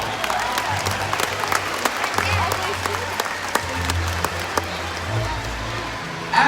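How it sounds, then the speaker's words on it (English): Steady applause and cheering from a large crowd at a SeaWorld show fill the space, with scattered sharp claps standing out and voices mixed in throughout. "give yourselves a big round of applause"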